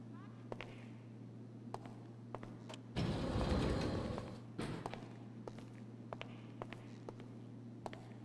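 A personal car delivered in GTA Online: an engine starts and revs loudly for about two seconds amid steady background hum and scattered clicks and footsteps, then settles back to idle ambience.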